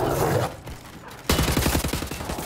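Rapid gunfire from the video game Wolfenstein: The New Order, a brief burst early and then a sustained loud volley of repeated shots in the second half, with no talking.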